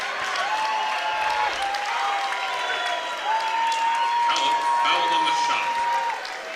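A standing-room-only crowd at a college men's basketball game claps in steady, sustained applause, broad and fairly loud, with a voice talking over it throughout.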